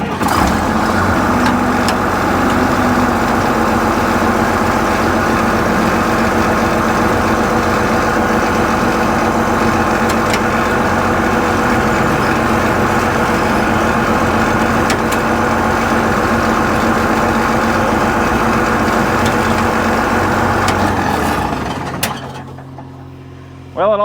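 Old International TD15C crawler dozer engine running steadily nearby, a loud continuous diesel rumble with mechanical clatter that holds for about twenty seconds before cutting out near the end.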